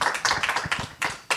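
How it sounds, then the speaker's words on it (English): Audience in a conference room applauding a panel on carbon capture and storage, a thin scatter of nearby hand claps in uneven bursts with brief gaps, no voices over it. "Can we have a round of applause for our panel?"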